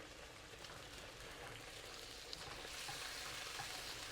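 Tofu and baby corn braise in sauce on a hot plate over medium heat, giving a steady, quiet sizzle and bubbling hiss that runs evenly throughout with no pauses.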